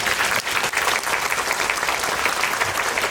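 Audience applause at a film event with director Lee Jung-jae and actor Jung Woo-sung, a steady, dense clapping from a large crowd that fills the whole stretch without pause.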